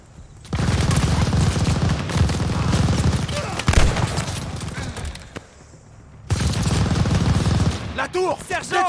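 Machine gun fire and explosions in the Call of Duty Vanguard mission Operation Tonga, loud sustained bursts in two long stretches with a brief lull between, shouted voices mixed in.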